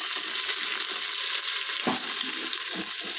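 Whole spices such as cinnamon and cloves frying in hot coconut oil for mutton curry make a loud, continuous close-up sizzle, broken once by a short stirring clatter.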